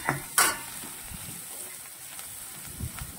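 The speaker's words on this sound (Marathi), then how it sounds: "आता कोथिंबीर, खोबरे आणि लसणाची पेस्ट आपल्याला परतून घ्यायची आहे." A paste of coriander, coconut and garlic being sautéed in a hot pan: a soft, steady sizzle with a couple of sharp spatula knocks at the start and light scraping after, close and moderately quiet.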